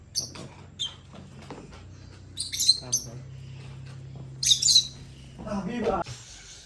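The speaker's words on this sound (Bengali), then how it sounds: "এই পাখিটার নাম হচ্ছে লাভ বার্ড পাখি।" Lovebirds at a bird farm give short, sharp squawks and chirps in scattered bursts over a low hum, with a hiss-like scratch of sound toward the end.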